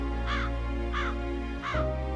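A crow caws three times in evenly spaced, clear calls over a steady droning musical background, with no talking.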